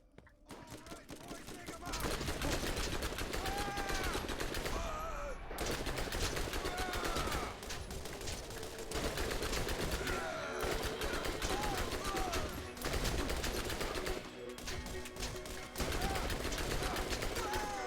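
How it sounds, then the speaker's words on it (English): Double Anarchy gun firing rapid multi-bullet bursts in the video game Borderlands, a dense, loud, sustained stream of gunfire with a few brief pauses, continuing for most of the stretch. "A double anarchy actually fires 4 bullets at once."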